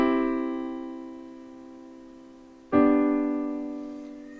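Two sustained piano chords played as inversions, the first ringing and slowly decaying for almost three seconds before a second chord is struck and rings on, close and clear with no talking.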